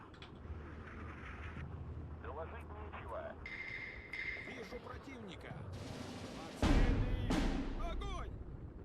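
Bombs dropped from aircraft explode in Steel Division 2, with a heavy close blast late in the clip and rumbling booms beneath battle noise and someone talking throughout.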